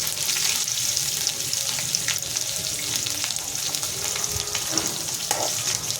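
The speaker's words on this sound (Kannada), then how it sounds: "ಸ್ವಲ್ಪ ಫ್ರೈ ಆದಂಗೆ ಈರುಳ್ಳಿ ಸೇರಿಸ್ಕೊಳ್ಳಿ" Chopped onions sizzle and fry in hot oil in a pan for shavige uppittu, a steady close crackle with occasional stirring scrapes and no talking.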